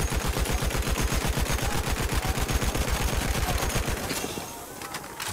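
A Lewis Gun machine gun in Battlefield 1 fires one long, loud, rapid burst of evenly spaced shots lasting about four seconds, then stops, followed by fainter rattling and game noise.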